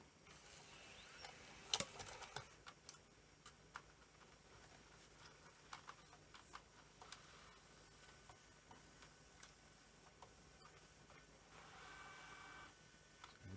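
A Sony HVR-M15AE DVCAM tape recorder with tape-loading trouble runs its self-test, giving faint, irregular mechanical ticks, clicks and ratcheting whirs at close range in a quiet room.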